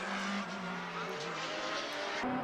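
Turbocharged Radical race cars at a Formula BOSS Ireland circuit race, a steady engine roar holding through the whole stretch with a brief tonal shift near the end, likely a passing or gear change, fairly distant and continuous.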